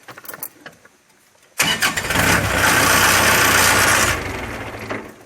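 A Kubota walk-behind tractor engine cranks after a quiet start, then catches and roars loudly and steadily close by before easing slightly toward the end.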